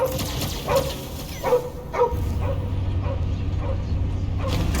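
Cosmo the dog in Guardians of the Galaxy gives a run of short barks and yips with whimpers between them, near and clear. A steady low rumble of game ambience sits underneath.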